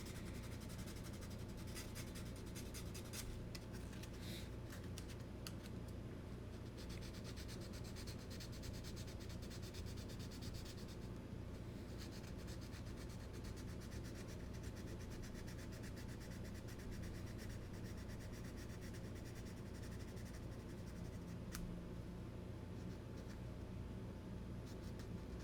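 Someone sands a scale model by hand with 180 grit sandpaper, producing a steady, unbroken scratchy rubbing that continues at an even level for the whole stretch.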